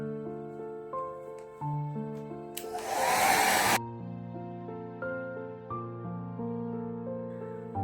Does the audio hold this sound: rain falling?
no